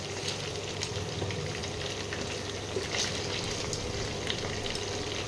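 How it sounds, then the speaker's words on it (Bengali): Lamb pieces frying in a pan, a dense, even sizzle with faint crackles and light pops throughout, close and continuous, with no talk. "ওই জন্যে আমি মাংসটাকে ভেজে নিচ্ছি।"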